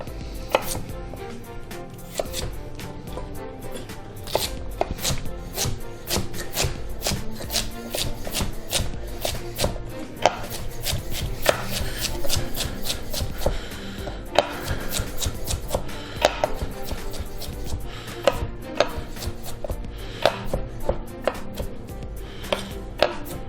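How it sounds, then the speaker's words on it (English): A knife dices celery on a cutting board in a fast, steady run of close, crisp chops that continues for a long stretch, loud and alone without talking. "you're going to get a similar size dice on the celery as well."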